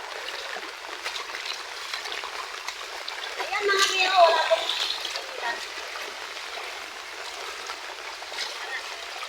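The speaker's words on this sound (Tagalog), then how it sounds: "Pakita sa inyo yung dumadaloy na tubig dito sa amin" Floodwater flows through a village, a steady, fairly faint rushing and trickling with a brief splashy swell in the middle, while someone talks over it.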